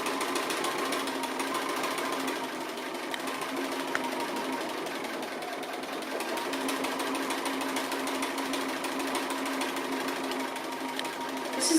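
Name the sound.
sewing machine stitching applique thread lines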